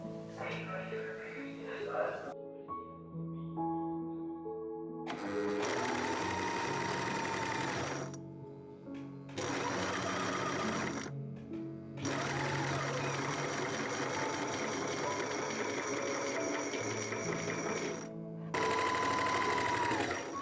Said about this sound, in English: I'm sewing one piece to the bottom and another to the top to frame our pleated accent strip.